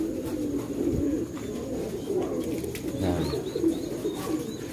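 Young racing pigeons cooing softly in a loft, low rolling coos repeating close by with a faint background hiss.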